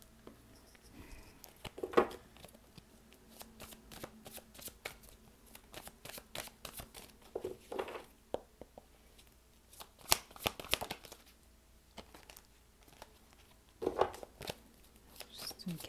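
Tarot cards being shuffled by hand, soft papery riffles and flicks coming in irregular bursts, with sharper louder shuffles at intervals against a quiet background.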